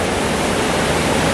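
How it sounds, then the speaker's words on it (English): A waterfall on the Elidir Trail pours in a loud, unbroken roar, close and steady throughout, with no voices. "this is the second of the falls."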